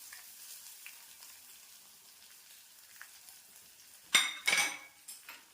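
Garlic, green chilli and small onions sautéing in a pan, a quiet steady sizzle broken by a few sharp metallic scrapes and clinks of a spoon stirring near the end.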